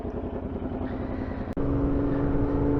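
A Royal Enfield Interceptor 650 with a TEC big bore exhaust and added end baffles rides along, a steady, throbbing low engine note with a short dip mid-way, then a slightly higher, steadier tone, close and without talk.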